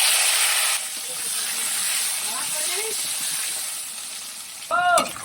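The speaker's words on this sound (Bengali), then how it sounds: "আলুটাকে ভেজে নেব।" Potatoes fry in hot oil with a loud, bright, continuous hiss that dips slightly after the first second, then a short tonal sound rises near the end.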